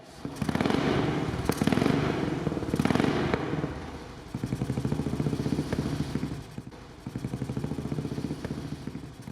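A Royal Enfield Classic EFI 500cc motorcycle with an aftermarket exhaust rumbles and pops in rapid bursts, revving in waves with crackling exhaust, close by and without talk.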